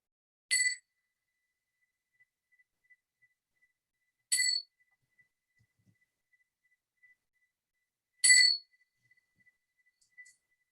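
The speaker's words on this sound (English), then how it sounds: "at the sound of the bell, you know, you bring yourself back into the next part of the session." Small bright bell struck three times, roughly four seconds apart, during a meditation session; each ring is a short clear chime that fades quickly into near-silence, with a faint tap near the end.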